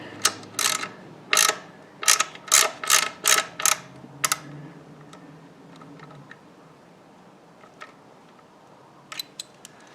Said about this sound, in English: Just going to snug it down with the ratchet on this side.